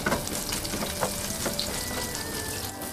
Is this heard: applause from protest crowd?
no